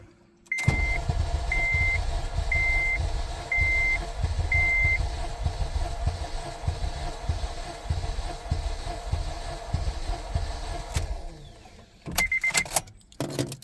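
A car engine cranks steadily on the starter for a compression test on cylinder 4, a loud rhythmic chugging lasting about ten seconds with a few regular beeps near the start, then clicks and rattles after it stops.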